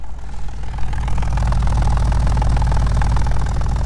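A car engine idles roughly and steadily, a low uneven rumble with a faint rattle, close by and running on its own.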